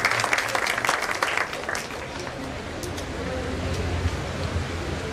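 An audience applauds at a farewell ceremony, dense clapping from many hands that is loudest at first and then settles into a steady, even patter, with a voice faintly underneath.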